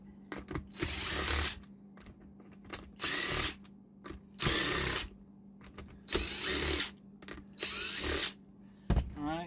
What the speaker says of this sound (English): switch to your 12 millimeter and take out the remaining bolts.